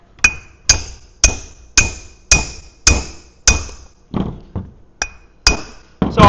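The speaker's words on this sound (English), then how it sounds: "See how I'm holding the U-joint up against the cap while I'm driving it in there?" A U-joint cap being hammered into the yoke of a Jeep TJ driveshaft: about eleven sharp, ringing metallic hammer blows in a steady rhythm, close and loud, with no talking.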